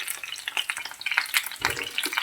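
Small grenaille potatoes frying in hot oil, a close, crackling sizzle with irregular popping bursts and no talking.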